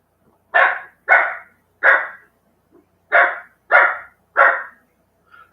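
A dog barks seven times in a loud, close series of sharp, evenly spaced woofs, with short silent gaps between them and no talk.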